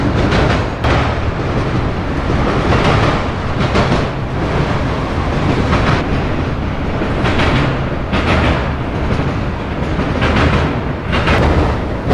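A freight train hauling mostly loaded auto racks rolls steadily past at Cordele, Georgia, a loud continuous rumble with rhythmic clicks of wheels over rail joints throughout.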